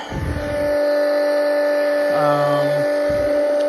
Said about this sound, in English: Okay, so I got the pump hooked up.